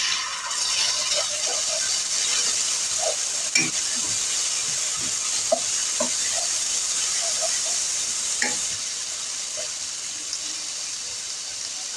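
Ginger garlic paste fries with onions in a hot pan, giving a steady, loud sizzling hiss throughout with occasional small pops and crackles.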